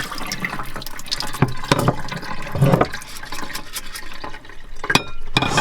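Water draining out of a container in a rock-and-grow setup, gushing and splashing up close with irregular sloshing surges and drips throughout.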